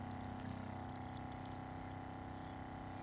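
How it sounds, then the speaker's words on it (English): A 12-volt pump pushes waste motor oil through a filter, giving a steady, continuous mechanical hum with a liquid gushing wash, close and unbroken throughout. "We're pumping in."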